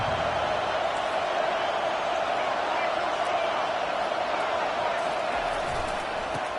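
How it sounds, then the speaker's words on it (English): A college football stadium crowd at Virginia Tech versus Michigan roars in a steady, dense wall of noise during a defensive play, loud and sustained throughout. "Listen to this crowd just shaking the girders of this place"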